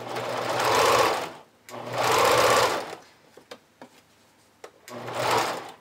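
A sewing machine stitches elastic onto the neckline of a vintage-style bra in three short bursts, with brief pauses and small clicks between them, close and clear.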